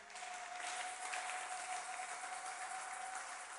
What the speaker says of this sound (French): On acclame encore très fort le Seigneur